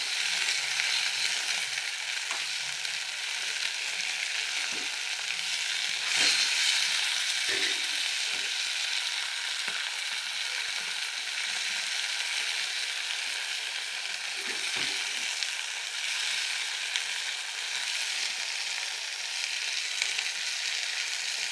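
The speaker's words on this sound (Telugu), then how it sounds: "పుదీనా కొత్తిమీర వేసానండి. మంచిగా నూనెలో గోలించుకోవాలండి." Mint and coriander leaves frying in oil for a pachadi, a loud, continuous broadband sizzle sustained throughout, with occasional faint scrapes and knocks of a spoon in the pan, close up.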